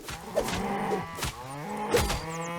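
Cows in the video game Hytale give drawn-out, wavering moos, two or three calls in a row, at moderate level alongside faint game effects.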